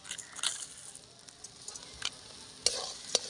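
Ground mustard and green chili paste with sugar being stirred in a hot pan, a soft sizzle with scraping strokes and a few sharper clinks of the utensil, close and quiet.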